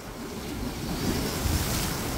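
Strong ocean surf washing onto a beach, a continuous loud roar of breaking waves with wind buffeting the microphone, steady throughout with no talking.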